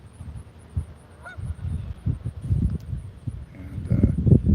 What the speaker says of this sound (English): Maybe you can see the one lazy goose out there.